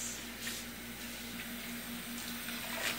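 Water running over strained buckwheat in a sink, a faint steady splashing rinse with a soft hum beneath, continuous and close.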